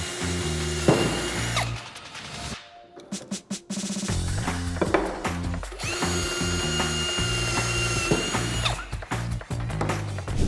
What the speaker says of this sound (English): And now we can just pre-drill our holes.